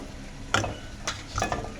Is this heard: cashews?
yes